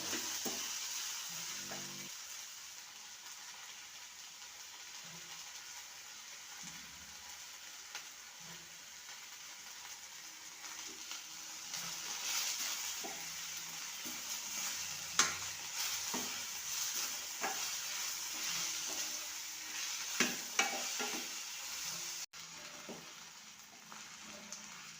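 Onions frying in a pan with four or five chillies while being stirred for onion thokku, a soft steady sizzle with occasional clinks and scrapes of a spoon.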